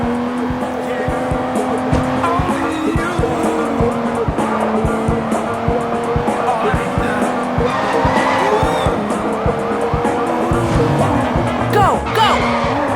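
Car tires squealing and skidding in the video game Sleeping Dogs, a loud continuous screech layered over engine drone and game music, with brief thuds along the way.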